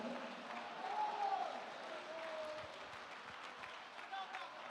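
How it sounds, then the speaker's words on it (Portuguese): A church congregation applauds softly at a distance, a faint, continuous patter of clapping mixed with voices and calls from the crowd. "Aplauda o Senhor"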